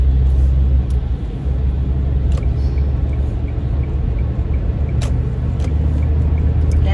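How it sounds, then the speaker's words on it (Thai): A large vehicle moves along the road ahead of a small car, making a loud, heavy, continuous low rumble with a few faint higher clicks and squeaks. "รถใหญ่ให้เข้าขึ้นก่อนเนาะ เพราะว่าเรารถเล็กนะคะ"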